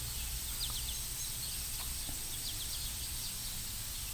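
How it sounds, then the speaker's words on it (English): Birds chirp faintly in the distance, short high calls repeating over a steady outdoor hiss, with no voices present. "and listen to the birds."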